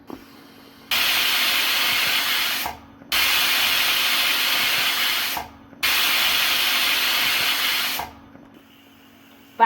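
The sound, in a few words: pressure cooker whistling and releasing steam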